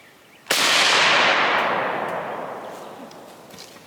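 A single loud rifle shot from an SKS chambered in 7.62x39 cracks sharply outdoors during recoil testing, then its echo rings out and fades slowly over a few seconds.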